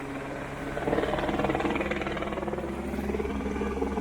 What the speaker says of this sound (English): an adaptive mountain bike being flown by a helicopter over the most ridiculous peaks